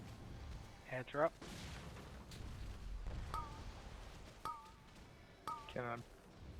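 Cannon fire rings out in a heroic World of Warcraft raid, the Battle for Dazar'alor, as several sharp booms mix with spell effects and chiming game cues, fairly quiet under the fight's clutter.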